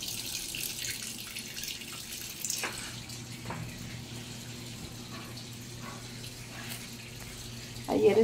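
Tap water runs steadily while a tablecloth is washed by hand at home, a soft continuous rush throughout that swells briefly louder at the very end.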